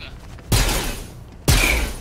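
Two loud gunshot bursts from a Fortnite match, each a sharp broadband blast about a second apart, with ringing decay between them and faint game ambience before the first.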